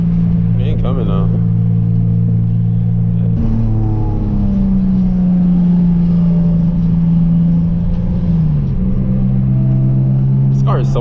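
Engine of a Nissan 350Z accelerating on the road, heard from inside the car as a loud, rising drone that climbs through gear changes, dipping between shifts before building again, with no talk over it.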